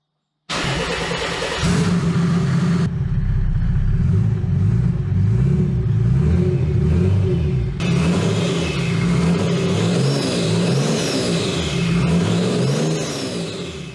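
A Mercedes W201 with an OM606 diesel engine starts in a garage, catching quickly and settling into a loud, close clattering idle, then revs repeatedly in rising and falling swells.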